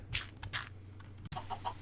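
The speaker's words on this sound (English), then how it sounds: "first chicken" A Minecraft chicken in the FTB Skies modpack lets out a few short, close clucks, with a second quick group of softer clucks after a brief cut.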